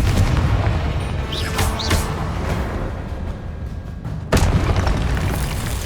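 Confringo fire spell blasts in the Hogwarts Legacy video game, loud booming explosions with rumbling tails, one near the start and a sharper, heavier boom late in the clip.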